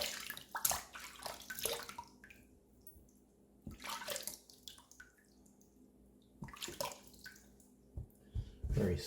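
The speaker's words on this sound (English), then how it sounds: "A little warm water rinse." Warm water runs from a tap during a wet shave rinse, splashing in bursts of a couple of seconds with quieter gaps between, close by and without any talk.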